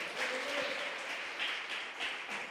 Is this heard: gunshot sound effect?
no